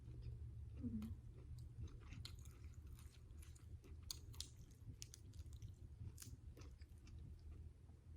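Grilled meatballs with a spicy dipping sauce being chewed close up, soft, quiet mouth sounds with scattered small wet clicks and crunches running steadily throughout.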